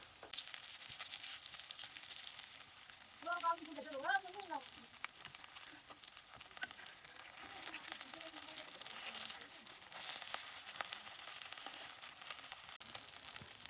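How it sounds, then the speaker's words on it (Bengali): Fish-oil fritters fry in a pan with a faint, steady sizzle that runs throughout. A brief voiced sound is heard partway through. "লাল লাল করে বড়াগুলো ভেজে নিব।"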